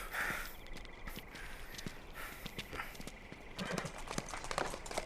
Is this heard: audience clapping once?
no